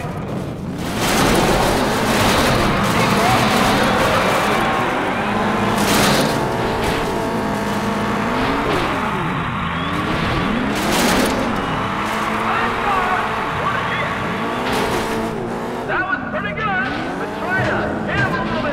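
Race cars in a point-to-point race in Test Drive Eve of Destruction, engines whining up and down through gear shifts with tire noise, close and loud, while someone talks over them.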